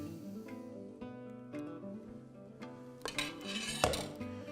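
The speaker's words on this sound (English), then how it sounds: "take your pea soup into the service bowl you're serving it in" Pea soup being ladled into a serving bowl, close clinks and scrapes of a ladle against pots and dishes, with a few louder knocks near the end and no talking.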